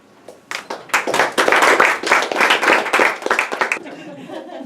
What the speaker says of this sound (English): Get more applause that way.